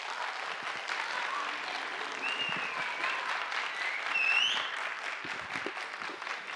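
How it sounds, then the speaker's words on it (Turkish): Audience applause fills a school debate contest in Sarayönü, Halkapınar, a steady dense clapping that swells slightly near the end, with no talk over it. "Alkışlarınızla Esra Gül Demirel."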